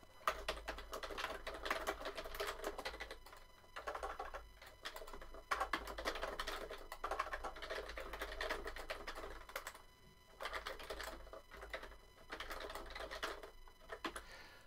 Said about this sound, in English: all you need to do is type in your tweet or your status update